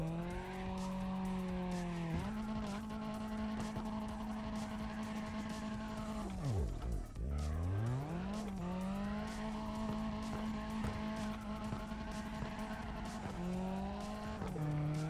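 Engine of a drifting car in the CarX Drift Racing Online video game holds a loud, steady rev, with tires squealing continuously while the car spins donuts and a deep pitch dip midway as the engine drops and climbs back up.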